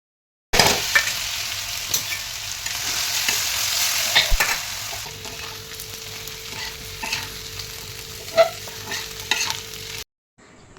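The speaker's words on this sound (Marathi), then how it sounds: "बटाट्याची भाजी फोडणीला टाकली आणि डोसा करून देऊया त्याला" Potato curry tempering sizzles and fries steadily in a home kitchen pan, with intermittent stirring scrapes and clinks, close and continuous before cutting off abruptly near the end.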